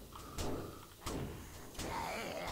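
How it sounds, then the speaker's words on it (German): A door in the survival video game 7 Days to Die swings open with a few sharp clunks and scraping sweeps spread over a couple of seconds, over a steady background. "Ja, wenn ich die Tür schon aufgemacht habe"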